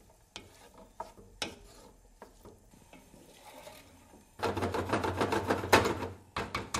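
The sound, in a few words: stirring currants into cooking fruit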